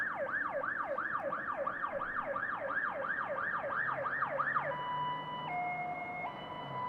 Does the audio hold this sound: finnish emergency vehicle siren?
yes